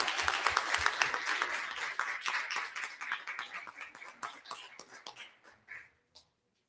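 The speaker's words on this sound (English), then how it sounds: "Please give our students another round of applause" A school district audience applauds students honoured for proficiency in math and English language arts, the clapping loud and dense at first, then thinning into scattered claps that fade out over several seconds.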